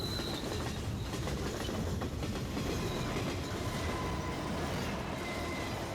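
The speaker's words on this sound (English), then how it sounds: "thanks for the train ride." Steady, loud rumble of a train running along the rails, a dense continuous roar with faint rhythmic clatter from the wheels and a thin metallic squeal threading through, no voices.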